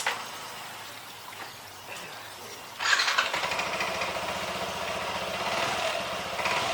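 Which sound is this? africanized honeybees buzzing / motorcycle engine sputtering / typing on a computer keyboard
motorcycle engine sputtering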